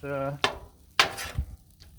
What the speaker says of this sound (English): I'll keep it stirred just a little more